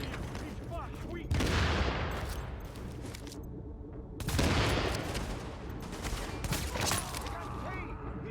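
Heavy gunfire in The Division video game, with sustained bursts of automatic fire and explosive impacts coming in loud waves, while voices talk over the shooting.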